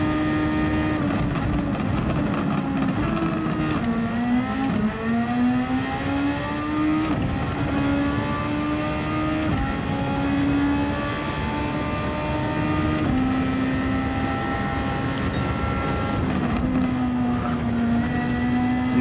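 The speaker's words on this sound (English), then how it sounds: "I'm just going to rev it out round here" Superformula race car engine in Gran Turismo 7 at Fuji, a loud continuous high-pitched whine that climbs and drops through gear changes as it revs out, no voices over it.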